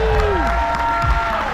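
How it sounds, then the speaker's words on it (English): Audience applause and cheering for the cast at the Radio Margaritaville show aboard the Margaritaville at Sea Paradise cruise ship, a steady dense clapping wash with tonal music-like sounds and a voice mixed in. "One more big round of applause for the cast."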